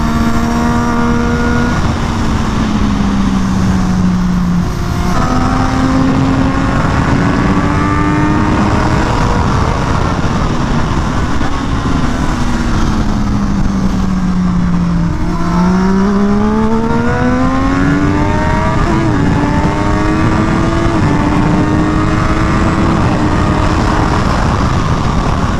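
A new race motorcycle roars continuously while being ridden, its engine pitch rising and falling through repeated revs and gear changes, loud and close with wind noise.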